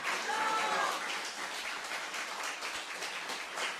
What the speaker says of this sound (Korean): 함께 뜨거운 박수를 한번 보내주시죠